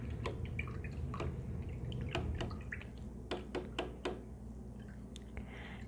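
A paintbrush is rinsed in a water container during acrylic painting, giving soft drips and small wet taps against a quiet room background. The sounds are close but faint and come at irregular moments.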